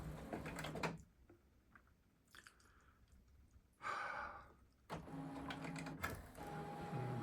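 An HP 9730e printer prints with a hesitation fault: bursts of mechanical whirring and clatter separated by long pauses, with faint breathing in the quiet gaps and the printer running close and moderately loud.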